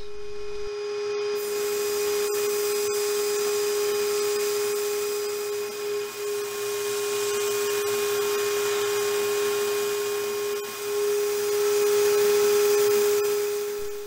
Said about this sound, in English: A sophisticated dust collection system is required to keep the shop clean and safe.